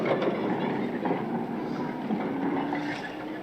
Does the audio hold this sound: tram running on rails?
yes